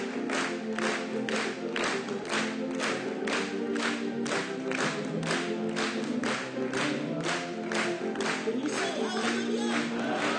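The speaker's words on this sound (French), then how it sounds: "Acclamons pour lui." A church congregation cheers and claps together, a dense continuous wash of rhythmic applause and voices filling the room at a steady, even level throughout.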